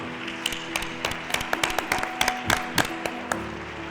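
Scattered hand claps from a modest gathering inside a church, honoring pastor Reverend Harvey at a Rochester town hall, sounding as a sparse, uneven patter of individual claps over a steady low hum.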